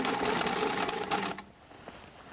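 A sewing machine stitches fabric for a baby's frilly flower top under the presser foot, a close, steady whirring run that stops abruptly partway through, leaving quiet room noise after.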